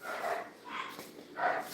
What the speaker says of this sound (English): all the barking in the background is just from the dogs